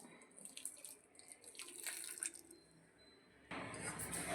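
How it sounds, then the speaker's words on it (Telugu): Water trickles and splashes faintly into a container of wheat flour being mixed for a sweet, with a louder steady pour starting toward the end. "నేను ఇక్కడ వాటర్ని యాడ్ చేసుకుంటున్నాను"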